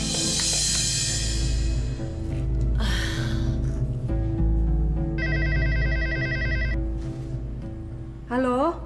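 A telephone rings in an indoor drama scene: a bright, repeating electronic warble rises briefly in the middle of the clip over steady background music, with a short tone at the end and no clear talk.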